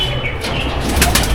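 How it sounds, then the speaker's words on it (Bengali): Pigeons shuffle and flap in a loft of racing birds, a brief steady burst of wing and bird noise close by. "এই দেখুন পায়রা দেখুন"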